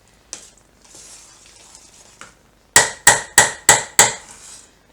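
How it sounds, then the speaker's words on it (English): Homemade dog food with vitamins and turmeric is stirred in a pot, soft scraping and sizzle followed by five loud, evenly spaced metallic clanks of a utensil against the pot. "Now, stir at the bottom to mix in the vitamins and the turmeric."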